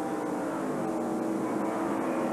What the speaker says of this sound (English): turn 6 back to the right on the throttle hard coming off the corner